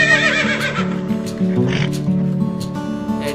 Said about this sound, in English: Nice horse, black color horse.